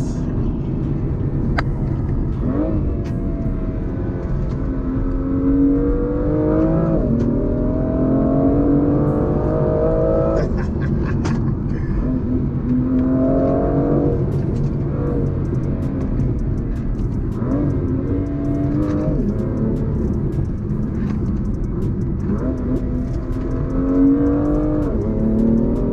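A BMW M2 engine revs hard from inside the cabin, climbing in pitch through each gear, with sharp, abrupt drops at the gear changes before it climbs again, a loud, steady drone that runs the whole time.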